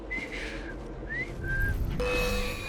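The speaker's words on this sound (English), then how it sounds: "I've just learned to whistle." A game character in Assassin's Creed Syndicate whistles a few short rising and falling notes up close, over a steady game background with a low rumble and a brief tonal shift near the end.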